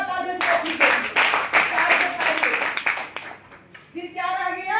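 An audience claps in a group, with dense broadband claps and chatter running together near the mic. Voices talk at the start and end.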